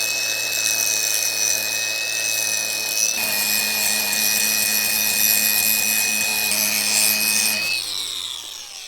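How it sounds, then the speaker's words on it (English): Angle grinder disc grinding down an old weld, a continuous harsh abrasive whine with a steady high tone, close and loud, that shifts pitch midway and winds down at the end. "I'm just going to take this grinder disc right up to the edge and grind that old weld down"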